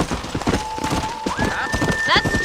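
Horses at a corral in the Red Dead Redemption video game clop their hooves in quick uneven steps while a horse whinnies, heard under talking and a rising sustained tone.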